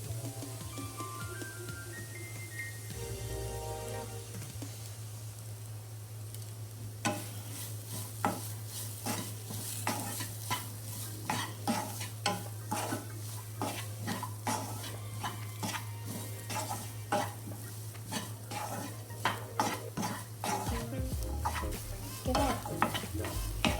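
Mutton mince with green chili and pepper sizzles in a pan, steady frying hiss under repeated close scraping and stirring strokes of a spatula that grow busier and more rhythmic as the cooking goes on.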